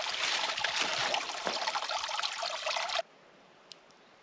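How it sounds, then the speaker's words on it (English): Water trickles and splashes steadily at a trailside campsite water source on the Pinhoti Trail in Alabama, loud and close for about three seconds, then stops abruptly, leaving quiet with one small click. "And there's water, thank God."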